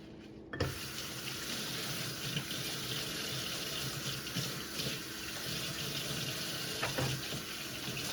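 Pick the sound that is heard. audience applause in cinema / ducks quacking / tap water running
tap water running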